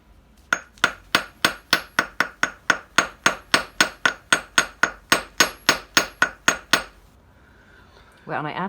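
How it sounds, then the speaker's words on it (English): Metal piece struck with a hammer in a steady series of about twenty ringing blows at an even pace, followed by a pause and a brief voice. "So now we've got our piece, and all it needs is the last hammering."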